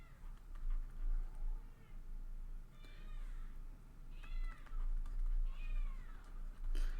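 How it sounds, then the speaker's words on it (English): Cats crying at a door, several drawn-out meows repeating from a moderate distance, faint against a low steady hum and occasional light clicks. "they always just come up and start crying at the door right when I start recording"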